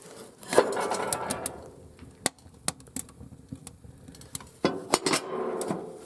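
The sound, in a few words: firewood being stacked into a woodstove through its top lid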